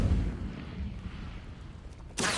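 A fire spell, Incendio, cast in the video game Hogwarts Legacy: a deep rumbling boom rolls on for about two seconds, then a sharp bright burst of flame erupts at the end.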